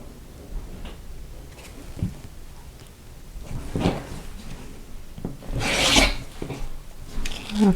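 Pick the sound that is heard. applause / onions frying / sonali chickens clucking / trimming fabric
trimming fabric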